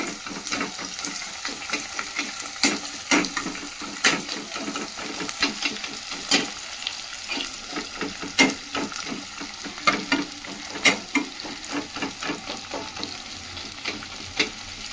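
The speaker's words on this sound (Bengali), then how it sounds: "এবার আমি হাই ফ্লেমে এগুলো পেঁয়াজটা ভাজবো" Chopped onions fry on high flame in a pan for a chicken dish, with a continuous sizzle broken by repeated sharp scrapes and clacks of a spatula stirring, close and steady.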